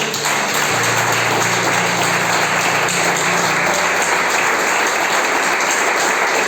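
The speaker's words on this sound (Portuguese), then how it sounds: "As palmas exaltam o Senhor." A congregation at a church service claps in loud, continuous applause, with a low hum or sustained tone underneath in the first half.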